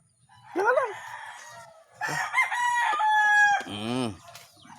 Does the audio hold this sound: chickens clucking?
yes